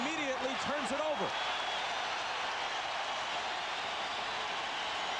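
A basketball arena crowd at the 1998 Bulls vs Pacers Eastern Conference Finals Game 7 roars in a steady, broad wash of cheering, with a commentator talking over it at the start.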